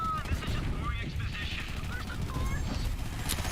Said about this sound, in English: this thing is going to be shooting very quickly